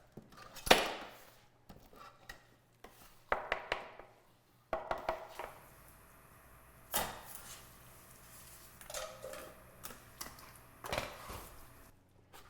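Syrup being beaten fast into peanut butter for homemade Butterfinger-style candy, heard as irregular sharp knocks and scrapes of a utensil against a bowl, close up with quieter stretches in between.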